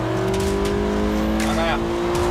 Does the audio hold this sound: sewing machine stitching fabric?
no